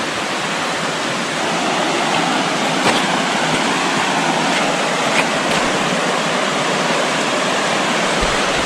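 River water rushes steadily through Peekamoose Valley at the Blue Hole, a loud, continuous broadband roar of flowing water heard up close with no talking.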